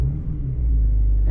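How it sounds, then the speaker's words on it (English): A 2025 Mercedes-AMG C63 S starting up, its exhaust giving a deep, loud rumble that steadies into a firm idle, close to the microphone, with no talk. "And now you hear the exhaust. You hear the engine actually turn on."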